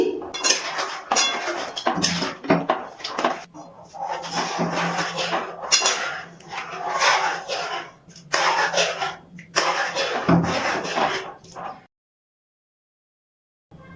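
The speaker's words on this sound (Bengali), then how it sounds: "হাতা দিয়ে নাড়াচাড়া করে সাবুদানাগুলো দুধের সাথে মিশিয়ে নিয়েছি।" A ladle stirs sago pearls into milk in a metal pot, with bursts of close scraping, clinking and knocking against the pot that come and go in uneven strokes before falling silent.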